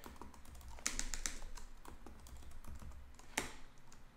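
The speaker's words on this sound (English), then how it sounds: "I'm just typing in these in randomly" Typing on a computer keyboard while entering hexadecimal color values: quick, uneven key taps close up, a denser burst of clicks early on and a sharp louder keystroke near the end.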